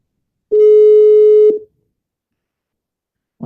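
A single steady busy-signal tone on a phone line while calling over WhatsApp, one continuous loud beep about a second long, then silence with a brief rustle at the end.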